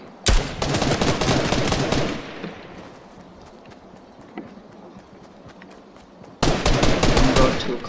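Enemy gunfire in a shooter video game: two long, loud bursts of rapid automatic fire, one at the start and one near the end, with quieter scattered shots and game noise between them.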